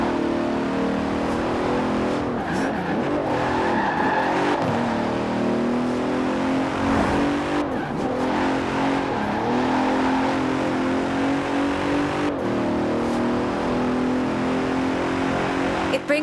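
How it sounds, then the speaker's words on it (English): A 2017 Bentley Continental Supersports in Forza Horizon 4, its powerful all-wheel-drive engine droning steadily and loud throughout, with slight shifts in pitch as it accelerates and eases off along the road. "The 2017 Continental Supersport is responsive, fast, and beautifully designed."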